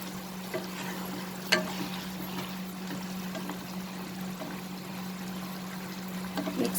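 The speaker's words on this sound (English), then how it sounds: "we will remove the lid and we will add the pointed gourd." Pointed gourd tipped into a boiling pot and stirred, a steady simmering bubble with a sharp knock of the ingredient going in and a few scraping stirs near the end, close and continuous.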